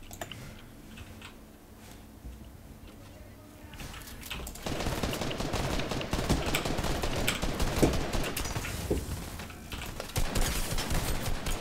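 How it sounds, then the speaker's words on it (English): Gunfire in Fortnite: rapid bursts of shots rattle out after a quieter opening, growing denser and louder into sustained volleys with sharp cracks throughout. "I think someone's trying to shoot me."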